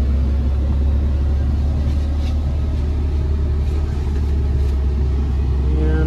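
A 2018 Dodge Ram 5500 HD 4x4 truck with a Cummins diesel engine reverses slowly, giving a loud, steady low rumble and idle-speed drone that holds close and unchanging throughout.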